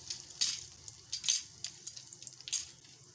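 Asafoetida dropped into hot oil for a tempering in a kitchen, giving a faint crackling sizzle with a few sharp spits and pops spread irregularly across the moment, close by and otherwise quiet.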